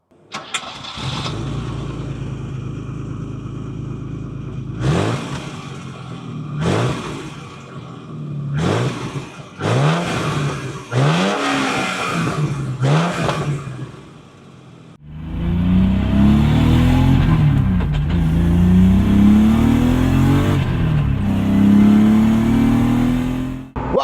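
A 1983 BMW tribute to the Alpina C1 2.3 starts up and revs in several sharp bursts, then settles into a loud, steady engine roar while driving with a rising pitch.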